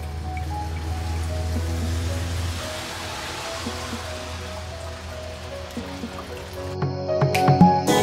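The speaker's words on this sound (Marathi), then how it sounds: "आज इथे खूप पाऊस पडतो आहे, विजा वगैरे पण खूप आहेत" Heavy rain pours steadily outdoors during a storm at a house in Australia, a dense hiss with scattered drips and splashes, fairly loud and continuous, with some louder clattering near the end.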